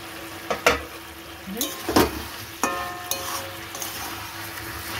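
Cauliflower and other vegetables frying in a pan as their released water cooks off, a steady close sizzle broken by several sharp scrapes and clatters of a spatula against the pan.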